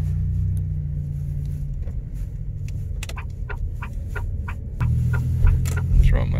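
A Chevrolet Impala pulls away in drive with a low engine rumble from inside the cabin, the pitch rising as it accelerates near the end, and scattered clicks and small knocks on top.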